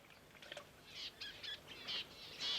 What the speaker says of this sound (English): Got these little budgies here, look at them, poor little things.